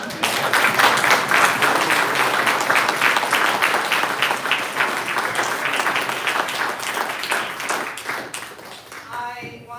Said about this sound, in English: I know that you all probably have been holding your applause, so if you'd like to get that out now.